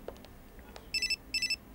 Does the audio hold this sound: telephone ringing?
yes